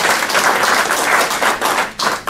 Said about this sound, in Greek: ένα θερμό χειροκρότημα για τον Πρόεδρό μας